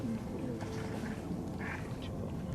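Ducks quack in a riverside nature reserve on the Courant d'Huchet, with short calls scattered through a steady wash of outdoor background noise and no voices.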